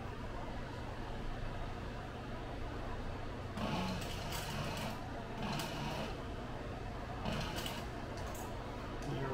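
A sewing machine hums steadily while stitching the side seams of a two-tone tote bag, with a few brighter bursts of faster running over the low mechanical drone; no talking.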